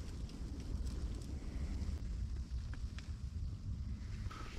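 Steady gusty blizzard wind roars and buffets close to the microphone against a tent while winter ice fishing, a continuous low rumble with occasional flapping, no talking.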